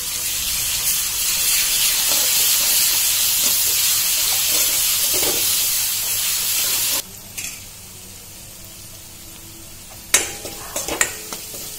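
Garlic paste sizzles in a pan with onions fried until reddish-brown, a steady loud crackle through the first seven seconds, then dropping to quieter clatter and a few sharp utensil knocks near the end.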